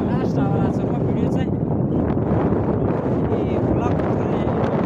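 Strong mountain wind near Sayang village in Mustang buffets the microphone with a loud, continuous roaring rush while a person talks over it.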